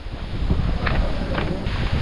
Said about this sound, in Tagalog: Lakas na naman ng hangin.